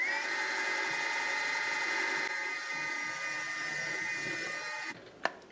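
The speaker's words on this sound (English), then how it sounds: "I'm going to go ahead and start drilling." A drill press whines steadily as it bores a hole in a metal clock face, a constant high-pitched machining tone that continues for several seconds before a brief click near the end.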